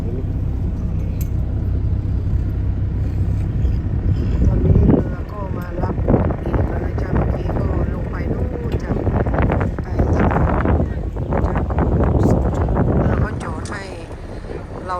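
A boat's engine drones steadily as the vessel pulls away on the Mediterranean off Mallorca, a low continuous rumble mixed with wind buffeting the microphone and water wash throughout.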